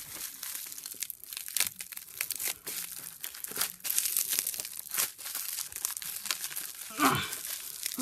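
Taped toy packaging being torn and crinkled open, a steady stream of close crackling, ripping and rustling with a sharper tear near the end, with faint talk in the background.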